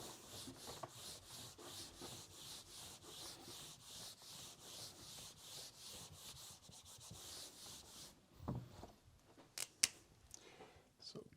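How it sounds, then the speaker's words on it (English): An eraser scrubs a classroom board in a physics lecture, a long run of steady rapid back-and-forth strokes up close, ending with a few knocks and soft handling noises. "now I'm going to erase to make room for case 1A over here"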